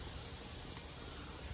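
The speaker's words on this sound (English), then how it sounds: "They're starting to sizzle pretty good and move around" Food sizzling steadily in a hot pan while cooking, a continuous faint crackling hiss with no talk.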